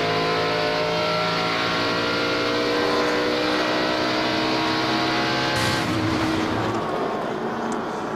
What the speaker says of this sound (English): you hear Junior really get on the brakes hard